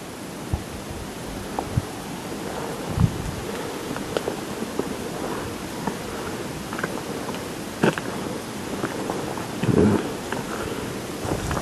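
Steady wind blows outdoors with a broad rushing noise, gusting faintly, plus a few small rustles and knocks nearby.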